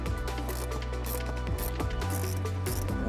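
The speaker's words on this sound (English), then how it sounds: "We'll go ahead and tighten this down until it's snug." Rivet nut tightened on a Toyota Tacoma center console molle panel, a run of close ratcheting clicks and small metallic mechanism noises over a constant hum, with no talk.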